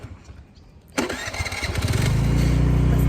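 A motorbike scooter engine cranks and catches, rising quickly into a steady, loud idle close by, with no talking over it.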